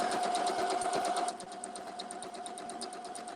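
A sewing machine stitching fabric runs steadily and fairly quietly, a continuous whirring hum with a faint rapid patter that drops a little in level partway through, with no talking.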